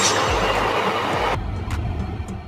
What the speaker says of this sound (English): Container train.